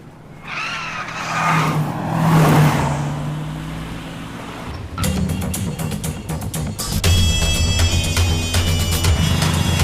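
A car pulls away fast in pursuit of a taxi, with a tire screech and skid first, then a loud engine revving and accelerating hard as it speeds off, steady and close throughout.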